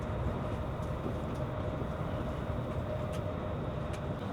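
Steady rumble and rush of an SJ X2000 train running between Malmö and Göteborg in Sweden, heard from inside, with faint occasional clicks and squeaks over the continuous rolling noise, no voices.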